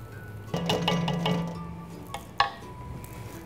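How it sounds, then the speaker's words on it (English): A spoon stirs crushed tomatoes into a pot roast braise in a pot, giving a short scraping swirl followed by a few faint clinks against the pot, quiet and close. "Stir that up."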